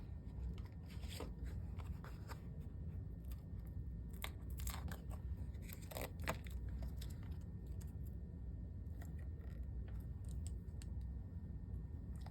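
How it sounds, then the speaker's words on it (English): Scissors snip repeatedly through paper in sharp, irregular cuts over a constant low background hum, close by and with no talking. "Scissors"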